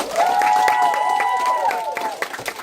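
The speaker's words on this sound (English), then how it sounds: "Give them a round of applause." Audience at a Hayden Elementary 5th-grade American Revolution walk-through claps and cheers for costumed students, a steady crowd wash with a sustained voice or tone running through and fading toward the end.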